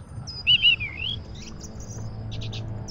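Cheep Cheep, a bird character in the game The Book of Unwritten Tales, gives a clear close run of bright tweets and warbles, then a few quicker chirps over a low steady background hum.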